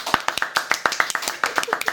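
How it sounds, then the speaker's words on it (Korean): A small studio audience gives a brisk burst of applause, about a dozen sharp, distinct hand claps in quick, uneven succession, close and fairly loud. "박수!"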